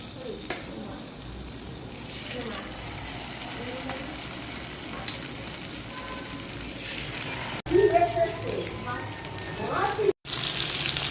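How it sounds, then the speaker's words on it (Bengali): Fish pieces frying in hot oil in a kadai, a continuous sizzle that grows louder and crackles sharply as more fish drops in, with soft kitchen clatter. "এবার আমি মাছগুলো কড়ায় আস্তে আস্তে ফেলে দেবো।"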